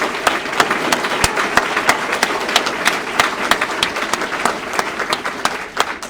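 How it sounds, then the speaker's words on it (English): A crowd at a Navy Supply Corps School graduation ceremony gives a loud, sustained round of applause for the graduating officers, with sharp, closely spaced claps forming a continuous roar throughout. "And another round of applause for all these fine officers."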